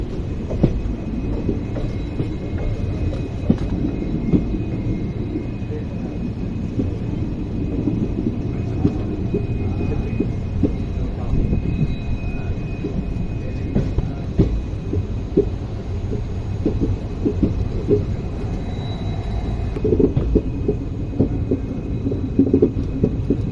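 The Shivamogga–Mysuru express, train 16226, runs on a diverted line toward Hole Narasipura, a loud steady rumble with rhythmic clicks of wheels over rail joints throughout.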